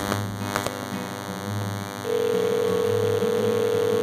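A cell phone held up to a microphone plays a call tone. Low hum and faint clicks come first, then a steady, unbroken tone starts midway and continues to the end.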